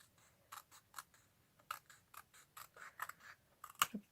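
Scissors snip through patterned craft paper for a springy pop-up book card, a close, quiet run of about a dozen short crisp cuts at an uneven pace, with no talking.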